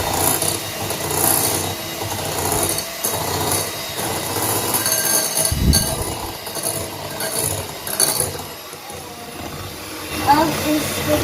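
Electric hand mixer beating eggs into vanilla cream cake batter in a bowl, a continuous whirring hum with scraping and rattling that runs loud throughout, with no speech over it.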